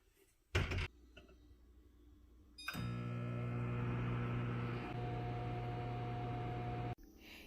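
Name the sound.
microwave oven heating soup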